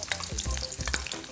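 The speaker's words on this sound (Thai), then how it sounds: "ใช้ความร้อนจากน้ำมันที่เหลืออยู่นะครับเอามาทอดใบโหระพานะครับ" Basil leaves fry in hot oil left over from crisping pork, giving a close, steady crackling sizzle with small pops and stirring scrapes, and no voices.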